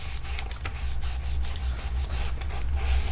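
A stamp laid on an envelope is rubbed by hand, giving a steady, close, soft scratchy friction sound with a few light taps, alone without talk.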